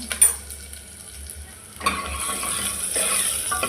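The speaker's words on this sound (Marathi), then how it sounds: "तर थोडंसं परतून हलवून घ्या" Dal being sautéed in a pan in a village kitchen, with soft sizzling and the scrape of a spoon stirring, quiet at first and then a louder, steady frying hiss after a couple of seconds.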